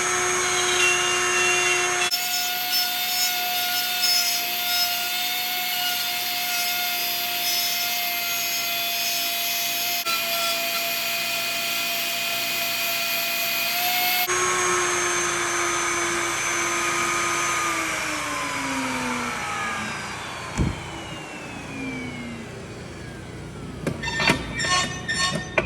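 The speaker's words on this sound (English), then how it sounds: "I'm gonna turn the router on." A plunge router cuts into a wooden sign, carving out a bear shape: a loud, steady high motor whine runs for about twelve seconds, then shifts pitch as the bit works the wood, ending in scattered rough cutting bursts and the motor winding down.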